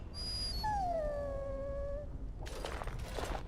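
A dog in the video game Dragon Age: Origins gives a rising then long falling whimpering howl, clear and mid-distance, followed by a brief burst of rustling noise over a steady low background hum.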